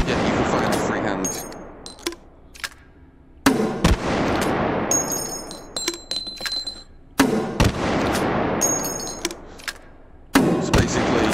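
Grenade launch pistol fires in a video game in repeated sharp, loud blasts, each with a short decaying boom, spaced a few seconds apart with mechanical clicks and reload clatter between them.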